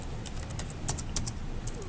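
Code being typed on a computer keyboard: a quick, quiet run of light key clicks over a steady background hum.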